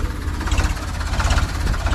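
A Ford 3600 tractor engine runs nearby with a loud, steady low rumble and a slight rhythmic throb and no pauses.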